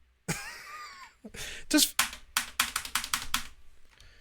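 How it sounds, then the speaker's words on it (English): Rapid clacking keystrokes on a clicky keyboard, a quick burst of taps following a brief voice at the start. "I've got the perfect clicky soundy keyboard."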